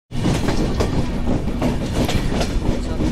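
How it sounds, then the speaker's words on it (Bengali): The Sagardari Express rolls into Sabdarpur railway station with a loud, steady rumble and rhythmic clickety-clack of wheels over rail joints, continuous and close throughout. "সকাল 9টা 37 মিনিটে সাগরদাড়ি এক্সপ্রেস সাবদারপুর রেলওয়ে স্টেশনে প্রবেশ করছে"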